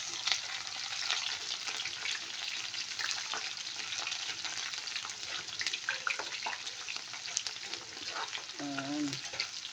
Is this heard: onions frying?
yes